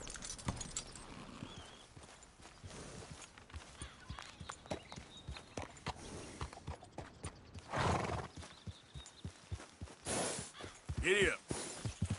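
Horse hooves clip-clopping at a walking pace in the Red Dead Redemption 2 video game, close and rhythmic, with a few louder neighs and snorts near the end and a voice briefly speaking.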